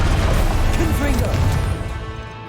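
A Confringo blasting spell strikes its target in Hogwarts Legacy, a loud crashing impact amid spell effects and game voices, tailing off into a fading rumble.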